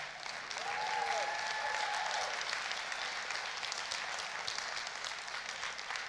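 A church congregation claps together during a sermon, a steady, full burst of applause lasting several seconds, with a faint whistle rising briefly early on.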